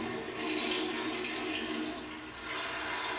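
A toilet flushes in a ghost movie: a loud rushing gush of water that swells, dips, then keeps running as the tank refills.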